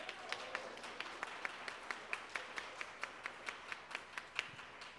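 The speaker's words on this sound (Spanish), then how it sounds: "Un aplauso al esposo." A small group claps steadily at a quick, even rhythm, faint and somewhat distant, with no voices over the applause.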